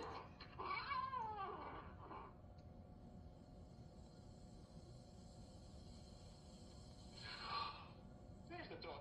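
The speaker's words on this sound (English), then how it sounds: "There's the talking cat." A cat meows in a 1949 Three Stooges comedy, Malice in the Palace: two faint wavering meows, one near the start and another near the end, over a quiet low hum with no clear talking.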